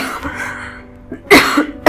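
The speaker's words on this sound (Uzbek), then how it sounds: "Yo'tal kelib qoldi." A person coughs twice in quick succession near the end, sharp close bursts after a quieter stretch of room sound.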